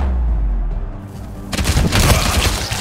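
Gunfire in the video game Showgunners: a dense burst of rapid shots and booming impacts erupts loudly after a rumbling lead-in and keeps going to the end, with no talk over it.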